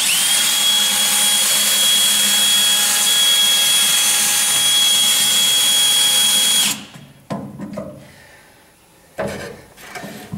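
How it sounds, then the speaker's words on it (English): A DeWalt power drill bores into a body jig for a split window coupe, whining loud and steady for about seven seconds before stopping, followed by a few short clunks and handling knocks. "Now I want to do something very dangerous, drill toward me."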